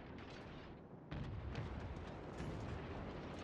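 The main guns of a Hipper-class cruiser in World of Warships fire a distant, muffled salvo that sets off a rumbling barrage, followed by further booming shots under continuous battle noise.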